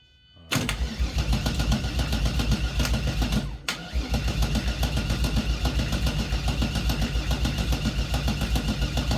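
A Volkswagen MK1 GTI with a freshly swapped engine cranks on the ignition key, loud and close. The starter whirs steadily for several seconds with a brief break partway through, then cranking resumes without the engine catching.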